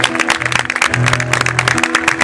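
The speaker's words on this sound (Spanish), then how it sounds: "Ahí pueden volver a aplaudir." Audience clapping along with live folk music from Entre Ríos, Argentina, dense irregular claps over sustained instrumental tones, fairly loud and continuous.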